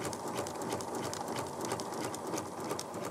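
A sewing machine runs a straight stitch under foot-pedal control, its steady rapid needle chatter continuing evenly and close up throughout, with no talk.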